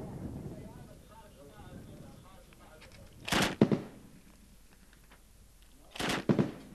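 Two bursts of heavy gunfire from a bipod-mounted Kord 12.7x99mm heavy machine gun shooting at oil barrels, each a quick cluster of loud booming shots, separated by a few seconds of quieter background with a voice talking.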